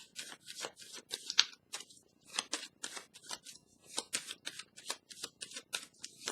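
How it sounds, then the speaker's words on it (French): Tarot cards are shuffled and drawn from a deck in a series of quick, soft riffling and sliding bursts, close and fairly quiet, with no voices. "on va piger une carte pour déposer sur force spirituelle"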